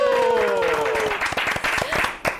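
A Korean TV health-program studio audience breaks into applause after a quiz answer. A drawn-out vocal sound comes first, then loud, close, uneven clapping fills the rest of the moment.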